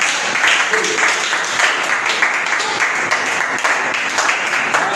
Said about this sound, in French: On acclame Jésus-Christ ce matin.